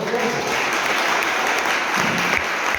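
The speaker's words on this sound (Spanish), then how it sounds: "Ahora sí tenían derecho a aplaudir, ¿verdad?" A church congregation applauds together after a sermon, a dense, steady wash of clapping that fills the room at even loudness for a few seconds.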